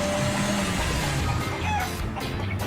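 Chickens clucking and a rooster calling amid a busy, noisy background, with steady ambient rumble throughout.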